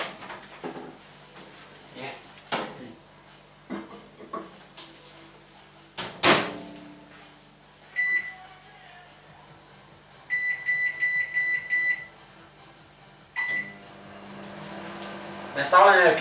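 An oven door opening and shutting with a clunk, then a run of bright electronic beeps as rice porridge goes into the oven, along with other kitchen knocks and handling sounds nearby.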